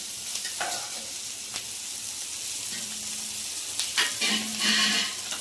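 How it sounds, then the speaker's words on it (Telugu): Coriander tempering for sambar fries in a pan, a quiet steady sizzle with a few stirring scrapes and louder bursts of crackling toward the end. "ఇప్పుడైతే వేగింది కదండి, చూడండి కొంచెం బాగా వేగిపోయింది"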